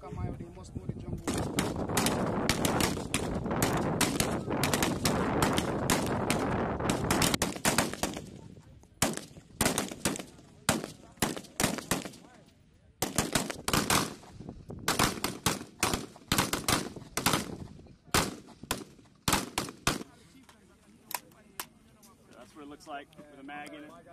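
Rifle gunfire at the Hattieville firing range during a Tradewinds 2022 media day, with dense bursts of sharp rapid shots early on, then spaced single and paired reports, while people talk throughout.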